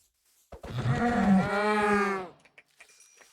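A cow lowing in the video game Minecraft, one long, loud, drawn-out moo heard alone, followed by faint soft clicks and game noises.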